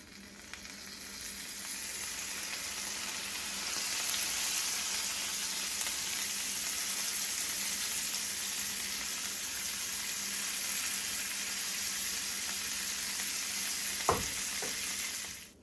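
Chicken wing pieces fry in a pan as lemon juice is added, giving a steady, even sizzle throughout with a brief clatter near the end.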